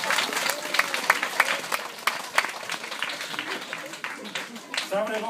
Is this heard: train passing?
no